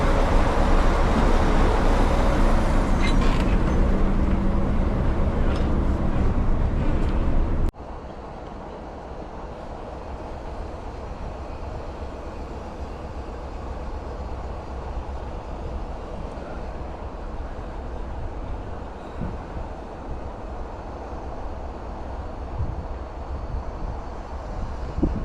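A British Rail Class 46 diesel locomotive on a heritage railway roars loudly up close, then drops to a lower steady rumble as it continues running, with no talking.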